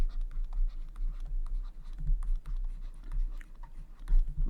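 Hand writing a calculus integration solution on a board, with repeated short scratchy strokes in an uneven rhythm over a constant low electrical hum, close and without speech.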